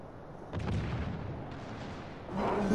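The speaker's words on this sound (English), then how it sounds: "All stations, concentrate fire on the target." Naval gunfire in World of Warships Legends, with deep booming salvos rolling out in two bursts, the second louder near the end, over a steady low rumble.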